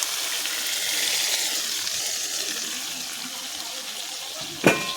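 Boiled mung dal poured into a pan for a banana-blossom and prawn dish, heard as a steady wet sloshing pour, followed by a brief sharp clack at the end.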